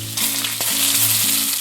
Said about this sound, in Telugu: ఆనియన్ బాగా వేగాక